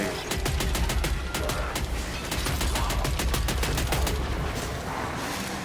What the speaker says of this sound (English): So much faster shooting now, the way I have my gun built.